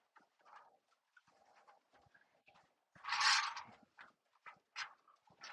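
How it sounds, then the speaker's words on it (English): Pet pigeons or doves brought indoors give soft repeated coos and low calls, with one louder fluttering rustle in the middle and scattered light scuffs around it. "Ricky brought his birds in today"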